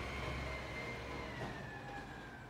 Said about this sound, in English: That noisy out there, the garbage truck.